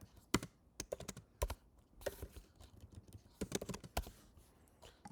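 Code is typed on a computer keyboard in irregular bursts of close, crisp key clicks with short pauses, no voices.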